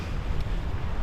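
Strong wind buffets the microphone at a cliff viewpoint overlooking a town in northern Portugal, a brief, loud, low rumbling gust with no voices.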